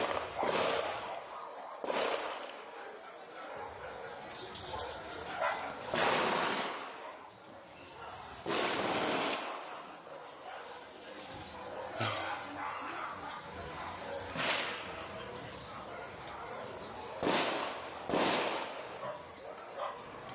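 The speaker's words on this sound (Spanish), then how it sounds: "Estos son registros que se han captado ya durante los últimos días, en específico durante el fin de semana, y que da cuenta de estas ráfagas de disparos" Heavy-calibre gunfire captured on a weekend recording comes as several sharp, loud bursts spread across the stretch, echoing and distant-sounding, with dogs barking in between.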